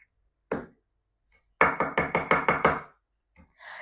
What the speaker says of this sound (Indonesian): ada lagi ketukan dari luar.